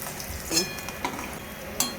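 Paneer frying in rice oil and butter gives a soft, steady sizzle, with a few light utensil clinks and stirring taps over it and no voices.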